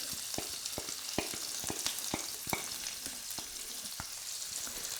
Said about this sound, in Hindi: अब इसके बाद हम इसमें डालेंगे 1 मीडियम साइज़ की प्याज।